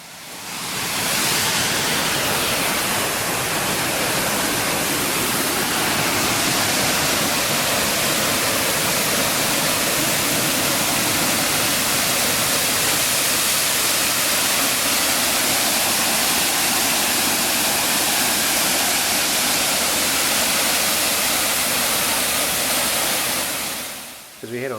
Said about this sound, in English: you get to have a look straight over the waterfall.